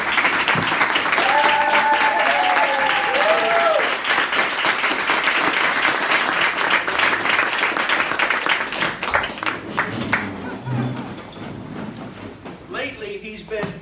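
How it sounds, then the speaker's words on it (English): A Toastmasters meeting audience claps together in steady, moderately loud applause. It thins out after about nine seconds into scattered claps and room noise. "So everyone stand up and let's give him a round of applause."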